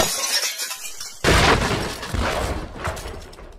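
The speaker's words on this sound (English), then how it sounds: "It sounds like glass breaking again!" Glass shatters loudly in a Minecraft game as a gang breaks into a house at night, a sudden crash followed by tinkling debris and a second burst of breaking, heard alone without talk.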